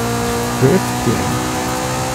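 A car drifts in Forza Horizon 5, its engine droning steadily and loudly while brief squeals of tire rise out twice, with no one speaking over it.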